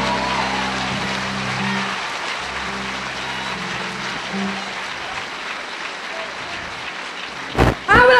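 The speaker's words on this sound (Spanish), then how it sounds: "Vamos los que estamos aquí a darle un aplauso fuerte a aquellos valientes que están afuera." Loud, sustained applause fills a church intercession service, with steady organ or keyboard tones underneath at first, then a dense wash of clapping that ends in a short, loud burst of voice and noise.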